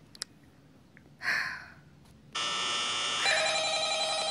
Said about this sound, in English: Oh, the phone's ringing again.